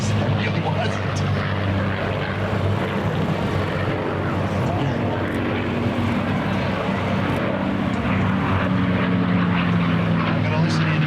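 A loud, sustained F-16 fighter jet engine roar with a deep drone and rushing noise throughout, steady and close, with faint voices mixed underneath.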